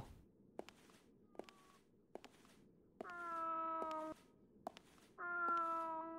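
In the Wii action RPG Fragile Dreams, set in a ruined building, a cat meows twice in long, clear, tonal calls over quiet, evenly spaced footsteps.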